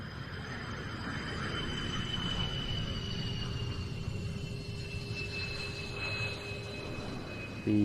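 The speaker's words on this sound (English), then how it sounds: "These F-16s coming to us from the Hashemite Kingdom of Jordan." Jordanian Air Force F-16 jets, an F-16AM and an F-16BM, arriving at the RIAT airshow give a steady, distant roaring jet-engine rumble that holds evenly throughout without speech.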